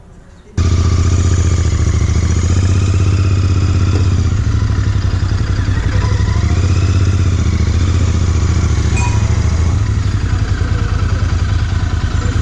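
Interceptor 650 motorcycle engine on a long highway mileage ride, a loud, steady, close-up drone with rumbling low tones that kicks in after a brief quiet start and holds without a break.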